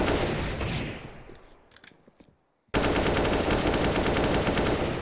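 Bursts of rapid automatic gunfire during a CS:GO pro match between G2 and FaZe at IEM Katowice 2023, a busy loud stretch that fades toward near silence, then a sudden dense, sustained volley resumes at full level.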